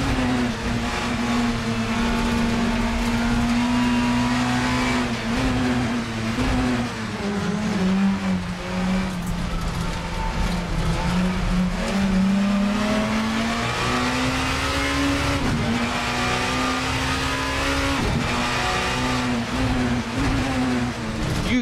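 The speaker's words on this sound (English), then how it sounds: "a better sounding virtual representation of a 2-litre tin pot touring car" A 2-litre Super Touring car engine in Assetto Corsa drones and revs steadily, pitch rising and falling through gear changes, loud and close with no talk.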